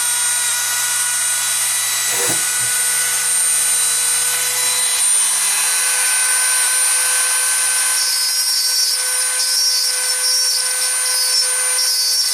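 A rotary grinding tool works steadily on the axle ends of a Matchbox Volkswagen Caravette toy car to remove burrs, a continuous close high-pitched whine running throughout with a brief lower bump early on.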